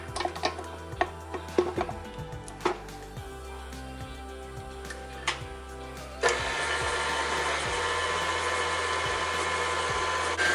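Electric mixer creaming softened butter with granulated sugar, starting after several scattered clinks and taps, then switching to a steady, even whir that runs for the last several seconds.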